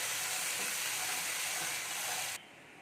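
Vegetables frying in a pan with tomato-ginger-chili paste and added water give a steady, loud sizzle and hiss that runs unbroken, then drops abruptly to a quieter simmer near the end.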